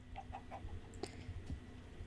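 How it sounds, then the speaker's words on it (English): Chickens cluck in a video game, several soft short clucks in quick succession followed by a few sharper calls, fairly quiet against a low background hum, with no talk. "So what if I just spawn all of the chickens?"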